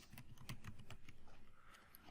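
Fingers type on a computer keyboard while JavaScript code is entered, a quick, close run of crisp key clicks in an uneven rhythm, with no voice over it.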